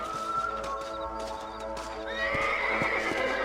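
In the video game Red Dead Redemption, a horse gives a loud, drawn-out whinny while its hooves clop steadily nearby under game music, with no voices.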